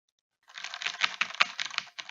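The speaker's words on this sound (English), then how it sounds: "If I actually type on the secondary keyboard too quickly, it will actually accidentally let some keystrokes through." Rapid typing on a secondary computer keyboard, a quick burst of close, crisp key clicks after a moment of silence, ending with a few scattered taps.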